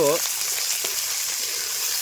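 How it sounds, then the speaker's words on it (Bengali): Steady sizzling of onion and chili frying in a hot pan, close and continuous, with a brief voice at the very start. "এখানে হচ্ছে পেঁয়াজ আর লঙ্কা ভাজা হচ্ছে"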